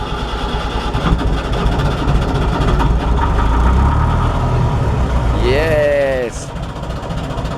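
A boat engine turns over and settles into a steady low idle, running continuously under brief talk.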